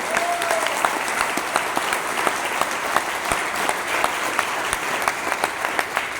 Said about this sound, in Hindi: डायमंड के लिए तालियां।